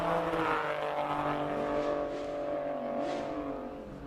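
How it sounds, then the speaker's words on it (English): A 3-cylinder turbo Toyota GR Yaris racing up a hill climb at Speed Classic Cape Town, a steady engine drone with rising and falling revs that fades slightly as it pulls away, no talk. "Watching the 3-cylinder turbo GR Yaris up the hill."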